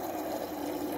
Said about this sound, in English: Testing the water coming out.